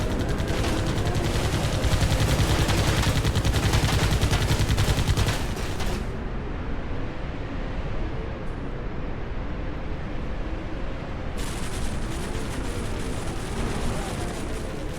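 Explosions and gunfire from the arcade vehicle-combat game Arena Breakers, with destructible surroundings: a dense, loud stretch of rapid blasts and shots that drops to a quieter rumbling backdrop midway, then the crackle picks up again near the end.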